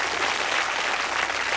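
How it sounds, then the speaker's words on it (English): Studio audience applause for Sooty the puppet's magic trick, a steady dense wash of clapping throughout with no pauses. "You can give him a clap for doing that."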